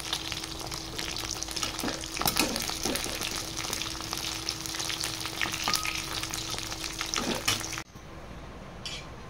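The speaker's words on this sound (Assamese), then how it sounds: "মাছ ভাজি আছোঁ" Fish fries in a pan with a dense, crackling sizzle and occasional sharp pops and spatters, steady and close, before the frying noise cuts away into a quieter background near the end.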